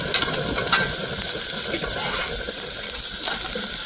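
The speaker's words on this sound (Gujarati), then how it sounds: "મિત્રો, આપણે 4-5 કાજુ નાખશું આમાં" A few cashews drop into a sizzling pan of whole cumin and dried fenugreek leaves, giving a steady bright hiss and crackle that runs loud and unbroken throughout.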